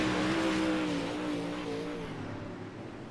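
UMP race cars at Lernerville working through turns 3 and 4, their engines a close, loud buzzing snarl whose pitch bends and sweeps as the cars pass, then fades slightly.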